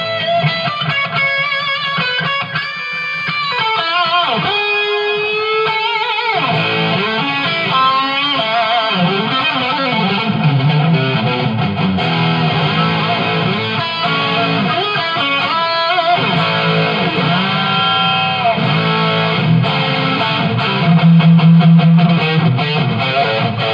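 An electric guitar plays through a Line 6 AMPLIFi 75 amplifier with delay and reverb on, sustained notes and chords ringing out with echoing repeats and a lingering tail, loud and continuous throughout.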